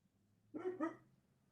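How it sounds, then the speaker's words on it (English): A dog in a room gives two quick, fairly soft barks in a row, then quiet. "He let one of the dogs in."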